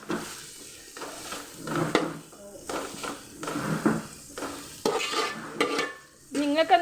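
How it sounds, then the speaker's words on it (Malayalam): Chopped tomato stirred in a hot frying pan, soft sizzling under repeated scraping strokes of a utensil against the pan, with someone talking over it. "എന്നിട്ടത് വേഗം ഇളക്കി കൊടുക്കണേ."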